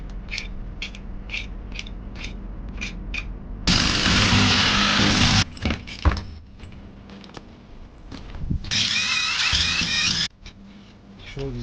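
A power tool spins out flex plate bolts on a Honda K24A engine during a teardown, with two loud, sustained mechanical whirring bursts separated by lighter clicks and clatter from the workshop.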